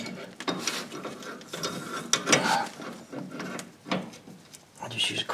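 A wrench ratchets on the inner tie rod end of a 2001 Ford Explorer Sport Trac in quick clicking bursts, with handling clatter between strokes and a voice talking over it.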